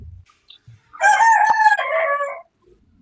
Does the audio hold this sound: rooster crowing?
yes